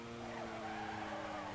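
Tires skid and squeal in a sustained drift in the racing game Need for Speed Carbon, with a steady engine drone underneath, loud and continuous.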